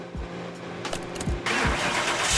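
A car engine cranks and fires up in Car Mechanic Simulator 2021, starter churning with a few rhythmic thumps before the motor catches into a loud, steady running roar.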